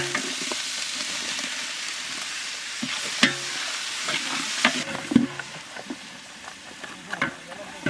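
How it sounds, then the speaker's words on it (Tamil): Ginger-garlic paste and tomato sizzle and fry in a pan over a village cooking fire, with steady crackling broken by scraping stirs and clinks of the spatula at intervals. "இஞ்சி பூண்டை நல்லா வதக்கியாச்சு அடுத்து தக்காளி சேர்த்துப்போம்"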